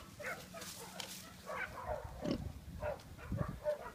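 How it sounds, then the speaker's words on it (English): Friendly pigs in a garden give soft, close grunts and snuffles in short irregular bursts, with no talking. "They're very friendly pigs, Pinky and Perky."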